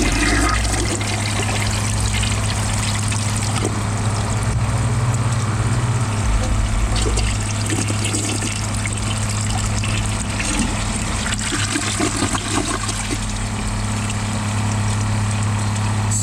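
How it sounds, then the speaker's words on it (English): A Kohler Wellworth Ingenium toilet is flushed again and its tank refills, giving a steady, close rush and trickle of water that runs without a break for the whole stretch. "I'm going to give it a second flush to see if it unclogs itself."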